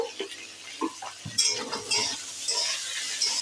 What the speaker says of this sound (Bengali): একসঙ্গে সব সবজিগুলো কষাতে থাকবো